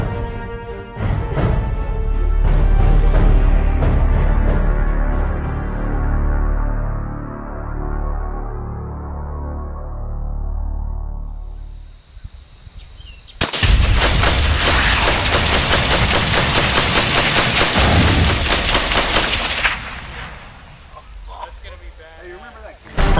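A fully loaded propane tank in a barrel explodes with a huge roaring blast that fades over many seconds, followed by a second dense burst of noise at a gun battle, while voices talk over it.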